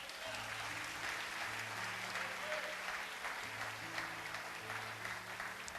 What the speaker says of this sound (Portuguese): Aplauda o Senhor Jesus por isso.